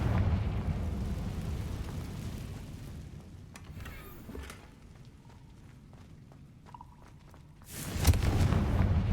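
Confringo spell explosion in Hogwarts Legacy, a sudden loud burst arriving after several seconds of quieter rumbling game ambience and faint clicks, with no talk over it.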